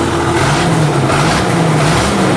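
An engine is revved hard on the throttle while puffing black smoke. It gives a loud, steady, rough roar that holds nearly constant through the short stretch, close by.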